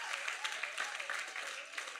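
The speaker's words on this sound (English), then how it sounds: "Can we clap for her once again?" Brief, steady clapping from an audience at a menstrual hygiene talk in Ghana, with individual claps audible in a moderately distant crowd and a voice faintly underneath.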